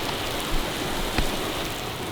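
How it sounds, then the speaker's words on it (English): Heavy rain drums steadily on a motorhome roof in a dense, constant roar with no voices. "I've never seen this much rain come down at once"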